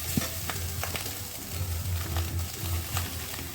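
Chopped onions and green chillies sizzle and crackle in a pan nearby, with scattered pops and low scraping from stirring, steady and moderately loud.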